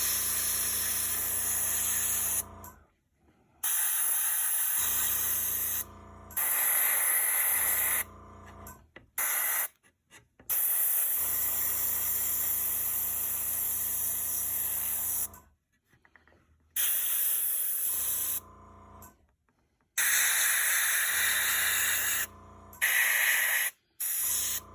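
An airbrush sprays glaze onto a painted model in repeated loud hissing bursts of one to four seconds, separated by short silent pauses, with no talking.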